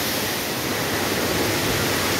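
A waterfall in Japan, with rain falling, roars as a loud, steady, close wash of broadband rushing noise with no break and no voices.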